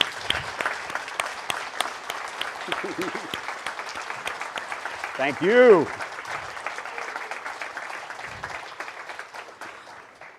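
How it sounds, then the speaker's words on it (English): A lecture audience applauds after a talk. The clapping is moderate and continuous, a voice briefly speaks over it, and the applause then slowly thins out. "Please join me to give him a round of applause."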